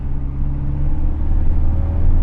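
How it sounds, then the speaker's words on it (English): A 2016 Ford Focus RS turbocharged hot hatch pulls hard in 5th gear around 40 mph, its deep engine drone rising steadily in pitch and loudness, heard from inside the cabin with no one talking. "Even in 5th gear, when that turbo comes in, it wants to go."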